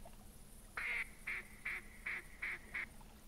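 Duck calls in The Hunter Classic hunting game: a run of six loud, nasal quacks in a steady rhythm, close and clear over a faint background hum.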